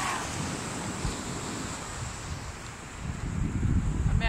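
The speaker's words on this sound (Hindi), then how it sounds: "एक तो लहरों की आवाज़ें ही अपने आप में इतना" Ocean surf at Colva beach in Goa, a steady broad wash of waves with wind rumble buffeting the microphone, growing slightly louder toward the end, with no clear speech.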